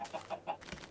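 A chicken in the Minecraft video game clucks in a quick series of short, close, pecking notes, heard alone.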